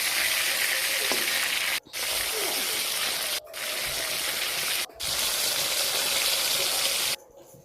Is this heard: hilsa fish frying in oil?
yes